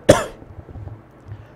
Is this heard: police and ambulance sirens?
no